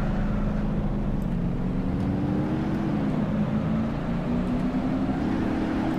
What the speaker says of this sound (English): That sounds like we're in NASCAR right now, just with the engine revving